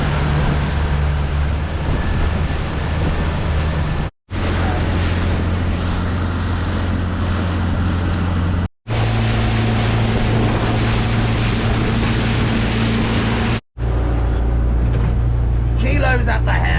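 Fishing boat motoring out of an inlet onto the open sea off the east coast, a steady low engine drone mixed with wind buffeting and wave wash, broken by a few brief cuts, with voices talking over it.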